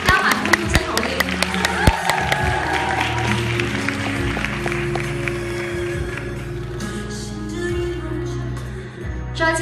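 An audience at a Hong Kong press launch welcomes Song Joong Ki and Song Hye Kyo for Descendants of the Sun with dense, crisp clapping at first that thins out, while voices carry on underneath.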